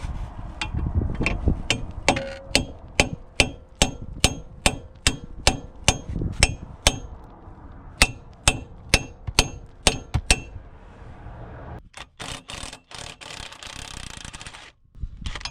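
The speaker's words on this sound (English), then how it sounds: "going to get my hammer, smash them on, and hopefully they come off with a 14mm" Sharp metallic hammer strikes ring out as sockets are hammered onto wheel bolts on a BMW E36 coupe, a steady, evenly spaced series, close and loud, followed by scraping clatter and a few more blows.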